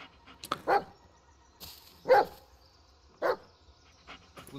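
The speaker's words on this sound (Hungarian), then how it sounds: "Ügyes kutya." A dog in the Blair Witch video game barks three times at spaced intervals, sharp and close, with faint game ambience and small rustling sounds between barks.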